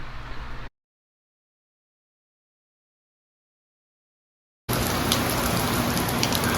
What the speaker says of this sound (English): so it did start raining